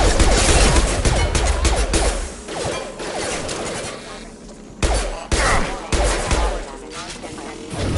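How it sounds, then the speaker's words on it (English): Heavy gunfire and combat noise from hostile Fenris mechs attacking a colony in a sci-fi shooter video game, loud bursts and impacts running throughout with a few sharp drops, mixed with game voice chatter. "Hear that? Sounds like Fenris mechs."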